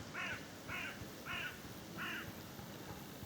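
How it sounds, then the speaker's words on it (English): A crow caws four times in an even rhythm, moderately distant, in the open countryside along a lane near Kimpton, with faint outdoor ambience beneath. "And the crow agrees."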